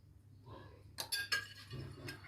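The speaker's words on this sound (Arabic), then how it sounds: "نضربهم قوي لغايه ما البيض ده يختفي معانا" A utensil whisks three eggs with a quarter cup of milk, salt and black pepper in a bowl, giving a few quick clinks and taps against the side, close and faint, with no talking.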